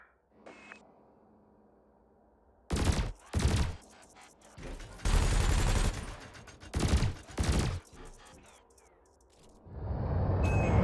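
Ship weapons firing in the space game Elite Dangerous, loud bursts of rapid fire in several separate volleys between quiet stretches, with a low engine hum underneath.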